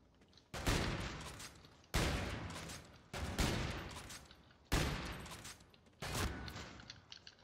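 Five loud, sharp Intervention sniper rifle shots ring out in Call of Duty: Infinite Warfare, each a sudden crack followed by a decaying tail, evenly spaced about a second and a half apart with no talking.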